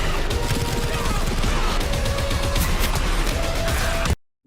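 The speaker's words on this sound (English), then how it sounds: "Explosions. I'd say a grenade done it." Grenade explosions and bursts of gunfire in the GTFO video game, a dense continuous barrage of booms and rapid shots layered over rumbling noise, ending abruptly in silence.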